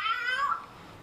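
A kitten's high, drawn-out meow rings out close and clear in the first half second, then fades to quiet background.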